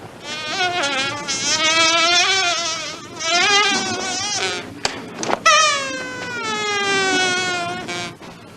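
A Disney sound effects artist imitates bee buzzing with his voice at Disneyland, giving wavering nasal buzzes in several long phrases with brief breaks between them.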